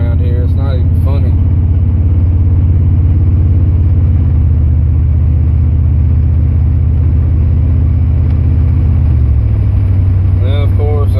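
A car is driven along a road, its engine giving a loud, steady low rumble that shifts pitch slightly as it travels, with someone talking over it throughout.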